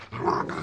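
A Kangal puppy growls low and steadily for a moment, close by, with a rough rumbling tone and no talking.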